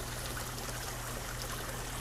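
A motion-activated water sprayer set to sensitive mode hisses a steady jet across a garden koi pond, a constant close rushing spray with a low hum beneath it.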